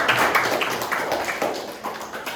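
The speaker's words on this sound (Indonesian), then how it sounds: "Ya, tepuk tangan untuk kelompok 5 dulu" A class gives group 5 a short round of applause, the claps dense and scattered over a steady murmur of room noise.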